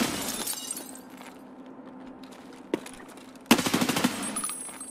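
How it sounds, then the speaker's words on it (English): Gunfire in the first-person shooter Escape From Tarkov: a single sharp shot stands alone amid quiet, then a rapid burst of automatic fire rattles out loudly before fading. "I think I just headshot him."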